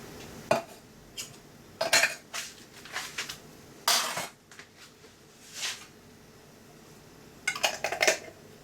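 Food scraped and spooned into an empty glass salsa jar, giving scattered clinks and scrapes of a utensil against glass and dishware, spaced out irregularly and heard fairly close.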